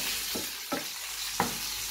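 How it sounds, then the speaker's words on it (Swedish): Garlic, onion and chili fry in a pan with a steady, close sizzle, broken by a few brief stirring scrapes spaced about a second apart, with no talk. "Jag stekar det, det är vitlök, lök och eh, chili."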